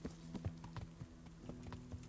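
Horse hooves in Kingdom Come: Deliverance, a fast, steady clip-clop of galloping with evenly repeating strikes over a constant low hum of game ambience.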